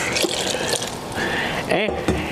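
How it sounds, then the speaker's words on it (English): Two cups of water poured into a flour mixture for a loose dough, a continuous close gurgling pour with liquid splashes and a brief sloshing burst toward the end. "and 2 cups water"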